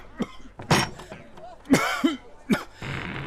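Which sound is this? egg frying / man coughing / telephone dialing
man coughing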